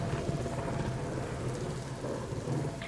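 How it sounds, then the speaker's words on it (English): A thunderstorm pours heavy rain in a steady, dense hiss, with low thunder rumbling underneath throughout. No voices are heard. "it is very loud out right now because of the storm"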